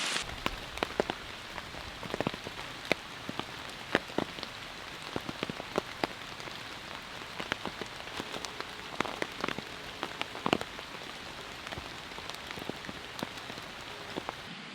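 Rain patters on a tent fly at night, a steady hiss broken by frequent close, sharp drops tapping the fabric.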